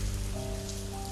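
Steady rain falls in a spooky video game scene beside an apartment block, a continuous dense hiss with soft sustained piano tones layered over it.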